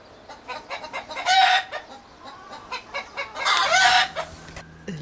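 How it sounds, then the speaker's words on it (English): Hens cluck repeatedly inside a coop, with two loud bursts of squawking, close and busy, and no talking. "Look at these birds, people."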